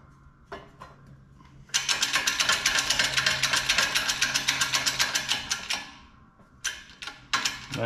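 Socket wrench ratcheting on a Caterpillar accessory pump drive from a 3406E or C15 engine: a few isolated clicks, then a long run of fast, even ratchet clicks, a pause, and short bursts again, close up with no talk.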